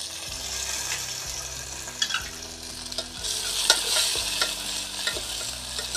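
Onion, tomato and garlic fry together in oil while stirred, a steady sizzle punctuated by uneven clinks and scrapes of a spoon against the pan, close and moderately loud.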